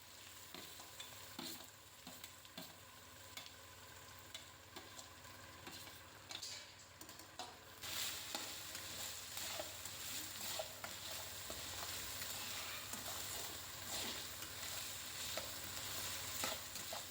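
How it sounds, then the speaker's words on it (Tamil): Two hundred grams of ginger sautés in a pan with a steady hiss of frying, punctuated by scraping and ticking stirs that grow louder and busier partway through. "இஞ்சி நல்லா ரெண்டு நிமிஷம் வதங்கட்டும்"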